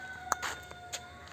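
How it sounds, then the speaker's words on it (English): A chicken clucks a few short, sharp times close by, with brief pauses between the calls against a faint, quiet background. "here's the sound of the chicken"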